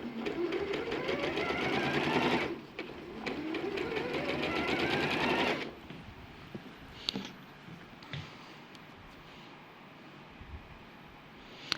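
Sewing machine running a quarter-inch seam in two steady bursts of rapid stitching, the first about two and a half seconds and the second about three, then quiet with a few faint clicks.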